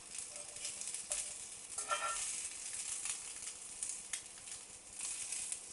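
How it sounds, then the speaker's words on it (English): Beef burgers sizzling in a frying pan, a soft steady hiss and crackle with a few faint scrapes and taps, quiet and without talking. "So the beef burgers have been cooking for 5 minutes on each side."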